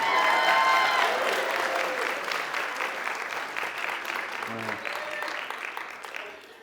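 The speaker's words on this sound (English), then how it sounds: "Give a round of applause, guys." An audience at a comedy variety show claps in a steady burst of applause that gradually thins and fades out, with voices and some whoops coming through.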